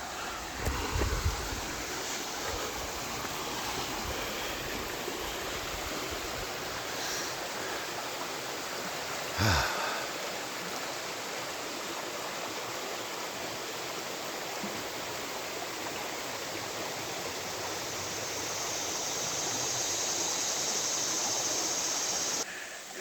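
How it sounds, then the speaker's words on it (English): Pickle Creek, a rocky shut-in stream in Hawn State Park, rushes in a continuous, full hiss of flowing water, steady and close, with a brief knock near the middle. "a little bit of the creek."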